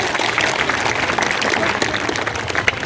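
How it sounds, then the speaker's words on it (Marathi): A crowd at a Buddha Jayanti procession gathering claps loudly and continuously in welcome, a dense, even wash of applause from many hands close by. "या सर्व मंडळासाठी आपण जोरदार टाळ्या वाजवून स्वागत करायचं"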